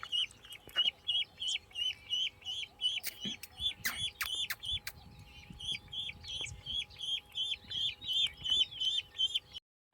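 Young domestic village ducks found near a fishing spot, giving rapid, repeated high peeping calls in bursts through the whole stretch, close and fairly clear, with no talk.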